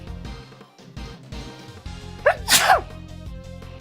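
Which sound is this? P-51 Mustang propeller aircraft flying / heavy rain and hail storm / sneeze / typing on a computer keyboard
sneeze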